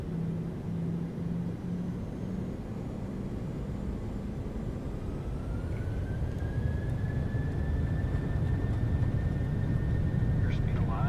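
UPS Airbus A300 cargo jet accelerating down the runway on its takeoff roll at Rockford, a steady loud roar with a rising whine building over about eleven seconds, heard from nearby.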